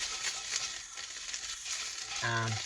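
Spinach and cream cheese cooking in a pan, a steady hissing sizzle with faint stirring scrapes and a brief tonal clink near the end.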